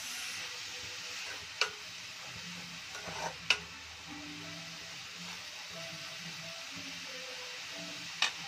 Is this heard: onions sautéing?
yes